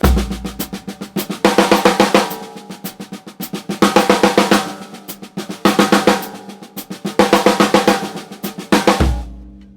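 A snare drum exercise of soft ghost notes broken by runs of loud consecutive accents, played at an even pulse in repeating bars, close and alone with no talking.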